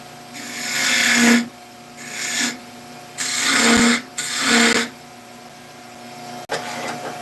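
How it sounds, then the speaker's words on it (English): A 1/2-inch spindle gouge cuts hard wood spinning on a lathe. It makes four rough, scraping bursts of a couple of seconds each over a steady motor hum, close and fairly loud, with a sharp knock near the end. "This is a 1/2-inch spindle gouge. I'm tempted to use a bowl gouge though because this wood is it's kind of hard."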